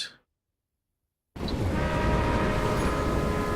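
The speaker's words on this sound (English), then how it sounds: "These trains are loud." Trains in the Railway Empire video game rumble loudly and steadily after a moment of silence, a continuous dense rolling roar with a brief horn-like tone near the start.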